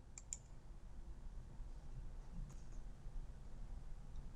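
Faint mouse clicks on a computer dashboard's Add a New Value tab and Add button, a couple of quick clicks near the start and another soft one midway over a steady low hum.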